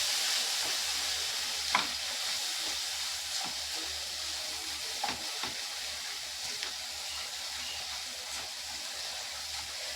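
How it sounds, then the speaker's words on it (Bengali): Mustard-poppy paste with chili and turmeric powder sautés in a pan for a Bengali puti fish curry, giving a soft, continuous sizzle broken by occasional faint clicks of stirring. "সব মশলাগুলোকে একসঙ্গে কষিয়ে নেব।"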